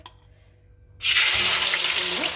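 Garlic, ginger and green chilies drop into hot oil for chilli chicken, setting off a sudden loud, dense sizzle after a second of quiet that keeps crackling close by.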